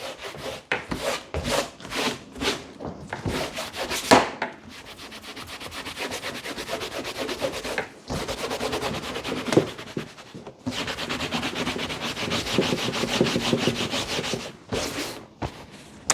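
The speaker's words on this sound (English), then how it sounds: "And then we can finally give it a buff with a polishing cloth." A polishing cloth buffs an old leather belt in close, loud rubbing strokes, with quick rhythmic swipes at first, then longer continuous passes broken by brief pauses.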